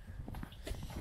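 Hooves of a large, well-trained saddle horse clop at close range in a quick irregular series during a ride, fairly quiet, with no talking.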